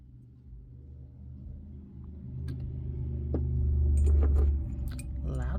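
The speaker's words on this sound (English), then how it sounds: "Loud truck driving by." A heavy truck rumbles past outdoors, its low drone swelling to a peak near the middle and then fading, with faint clinks and small handling noises close by.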